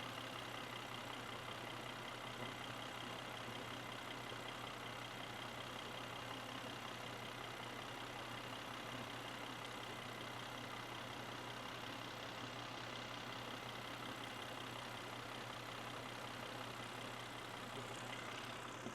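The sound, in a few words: Volvo engine idling while running on milk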